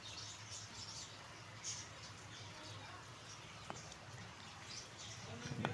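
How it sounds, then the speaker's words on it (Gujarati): Faint, steady rain patters in a soft hiss, with a few scattered drips and distant chirps. "જો આપણે અત્યારે વરસાદ આવી રહ્યો છે"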